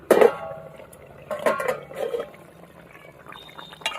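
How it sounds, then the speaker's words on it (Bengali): Fish curry gravy with potatoes bubbling in a pot as the lid is lifted, a short clatter of the lid followed by soft, close bubbling and liquid gurgles, with no talking. "এই দেখুন ঝোল ফুটে উঠেছে আর আলুও কিন্তু প্রায় গলে উঠছে"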